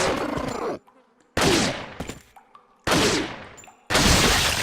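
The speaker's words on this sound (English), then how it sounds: "This gun is so powerful that leg and arm shots are good enough." A powerful gun fires in Resident Evil 4: four loud, booming shots at a slow, uneven pace, each followed by a long ringing decay and near-silence in between.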